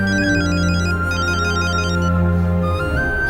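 A phone plays a loud, bright melodic ringtone for an outgoing call in a Tamil comedy film scene. The repeating electronic tune is continuous and close throughout.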